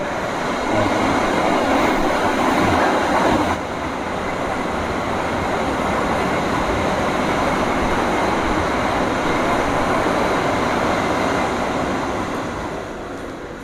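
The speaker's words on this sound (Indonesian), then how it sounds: "Kereta lagi." A train rumbles past nearby in a long, steady roar of wheels and rushing noise, loud and continuous with no voices.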